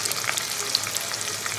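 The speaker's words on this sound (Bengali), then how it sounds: "এবার পেঁয়াজটাকে খুব ভালো করে ভেজে নেবো" Chopped onion fries in hot oil, giving a brief, close, steady hissing sizzle dotted with tiny crackles and pops.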